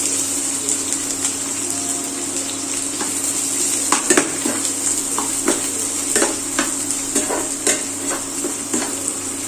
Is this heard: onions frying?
yes